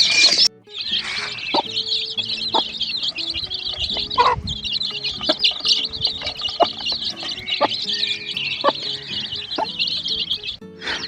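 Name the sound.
chicks kept in mesh crates on a village farm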